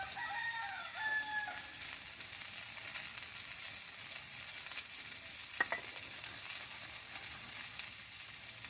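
Onion sizzling in hot oil in a village kitchen, a steady hiss throughout, with a rooster crowing briefly in the background at the start and a faint clink partway through.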